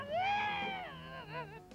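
A single drawn-out cat meow, close and clear, rising then trailing off into a softer wavering end.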